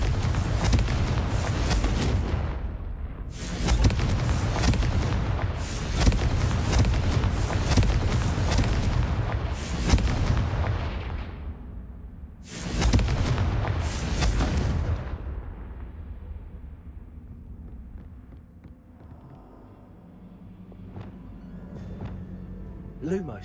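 Repeated Confringo blasting-spell explosions from the Hogwarts Legacy video game, a run of loud booming bursts in quick succession that fade into a quieter, rumbling tail.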